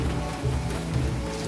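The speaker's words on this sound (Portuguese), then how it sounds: "Tá chovendo." Light rain pattering steadily outdoors near a washing machine area, a soft continuous patter with a low hum underneath, no voices.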